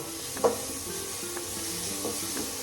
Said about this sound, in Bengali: নুন আর চিনি দিয়ে নাড়াচাড়া করছি